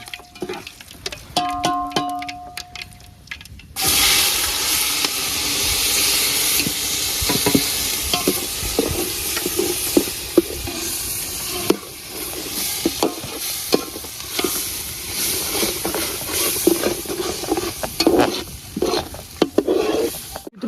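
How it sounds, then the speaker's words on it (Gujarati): Onion and tomato gravy hits a hot pan for dal dhokli with a sudden loud burst of sizzling, then keeps frying steadily with repeated scraping stirs; a faint tonal sound comes before the gravy goes in. "હવે આપણે ડુંગળી અને ટામેટાની ગ્રેવી નાખી દઈશું અંદર."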